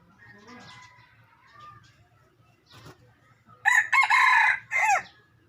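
A red junglefowl rooster crows loudly nearby in two bursts, a long call followed by a shorter one, after quieter stretches of background talk.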